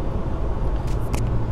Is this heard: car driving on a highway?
yes